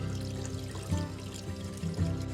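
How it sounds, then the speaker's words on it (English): Aerated tap water from a milk jug pours into an AeroGarden Bounty hydroponic garden's reservoir, a continuous gurgling stream with a few glugs from the jug, no talk. "I have this milk jug water that I set out for a few days to aerate it. So we're just gonna pour this in here."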